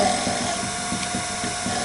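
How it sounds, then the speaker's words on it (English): A sharp chisel cuts a wooden chess knight spinning on a lathe, giving a steady close whirring buzz with a fast, regular pulsing chatter throughout. "I'm just going to get my sharp chisel and just"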